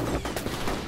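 Rapid gunfire in the first-person shooter F.E.A.R., a dense fusillade of overlapping shots filling nearly a second, loud and close with no pauses.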